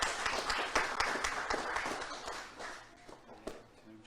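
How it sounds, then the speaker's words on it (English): Audience at a Ramzaan QuizWiz Award 2021 quiz event applauding a participant, a burst of scattered hand claps that is moderately loud at first and thins out over four seconds. "Ibrahim Ali, give it applause."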